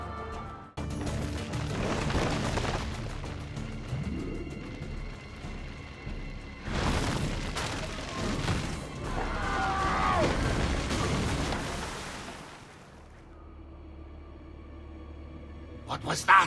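Gunfire and bursts ring out in the video game Assassin's Creed 2, several sharp blasts and crashes mixed with score and ambience while characters shout and talk over the action.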